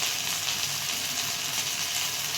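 Ground spices, garam masala, turmeric, red chilli powder and homemade masala, sizzle steadily as they are sautéed in a hot pan for a village-style modak amti, a constant close frying hiss with no voices.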